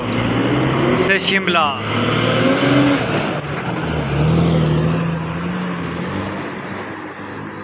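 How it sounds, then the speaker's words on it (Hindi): A bus running from Reckong Peo to Shimla rumbles past with a steady engine roar and a brief horn early on, while someone talks over it. "ये है दूसरी बस रिकांगपियो"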